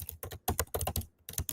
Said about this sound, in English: I know you guys love the typing